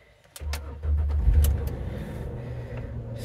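A Ford Freestyle's engine starts: a brief starter crank, then the motor catches with a loud low rumble and settles into a steady idle, heard close up inside the car.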